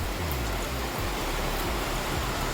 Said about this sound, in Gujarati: સારો વરસાદ આવે છે